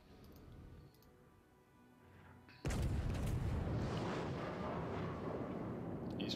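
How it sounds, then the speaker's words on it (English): Naval artillery in the World of Warships video game: after a quiet rumble, a heavy boom erupts and gives way to a loud, sustained roaring barrage that fills the rest of the moment. "Enemy shells are incoming on the ship."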